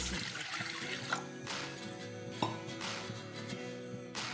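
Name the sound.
pouring water into a pressure cooker with lentils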